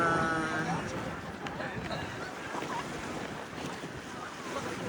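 Waves wash along the seaside shore at Yoido, mixed with rushing wind noise across the microphone, while a person talks over it.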